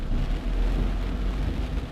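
Heavy rain pounding a car while driving at night in Davao, Mindanao, a dense, continuous hiss with a low rumble of the vehicle beneath, loud and unbroken throughout.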